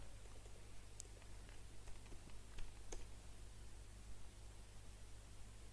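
Computer keyboard being typed on while entering a port number in a C# coding session, a few quiet scattered key clicks over a faint steady electrical hum and hiss, no speech.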